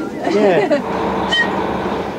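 A London Underground Jubilee Line train in motion, a steady loud rumble of rolling stock with faint squealing tones, heard from close on board while a person briefly talks.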